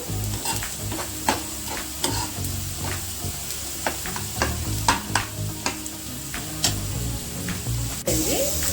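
Raw prawns fry with golden onions in a pan, a continuous close sizzle broken by frequent scraping and tapping of a stirring spoon against the metal, with no voice over it.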